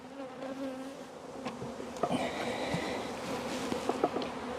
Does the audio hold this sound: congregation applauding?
no